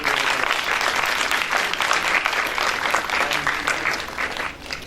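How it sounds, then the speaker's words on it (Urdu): An audience claps steadily for festival organizers at a literary festival gathering, dense, sustained applause filling the room for several seconds before starting to thin out at the end. "ان کے لیے بہت سی تالیاں بجائیے"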